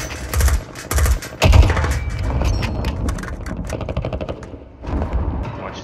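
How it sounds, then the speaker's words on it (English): Call of Duty battle royale gun battle: repeated bursts of automatic gunfire and single shots with heavy thumps, loud and dense throughout, mixed with game mechanism noises. "Gun battle going on down there."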